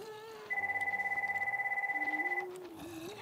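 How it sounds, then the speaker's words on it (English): A steady electronic telephone ring pulses for about two seconds over quiet background sound and then stops. "Phone's ringing."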